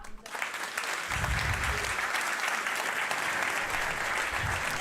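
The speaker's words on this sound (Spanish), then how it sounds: "os pido que le deis la bienvenida con un gran aplauso" Sustained, loud audience applause welcoming a speaker to the stage at a live event, filling the whole span after a brief quieter start, with a few faint voices mixed in.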